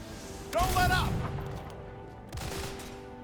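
Gunfire in the action game Granblue Fantasy: Relink, two loud bursts of shots about two seconds apart over a steady game soundscape, with a character's voice speaking between them.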